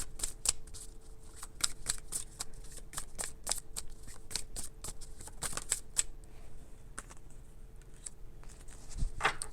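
Tarot cards being shuffled and drawn by hand, heard close up as a rapid series of crisp riffles, snaps and flicks spread across the whole stretch, with no talking.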